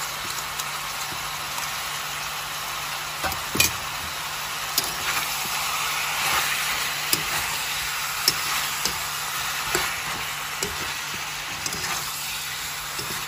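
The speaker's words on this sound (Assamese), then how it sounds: "এতিয়া আদা নহৰু দিয়াৰ পিছত 5 মিনিট সময় ভাজিব লাগিব" Ginger-garlic paste frying with mutton pieces in a pan for a Nepali-style cut mutton curry: a steady, close sizzle with scattered light clicks and taps from stirring throughout.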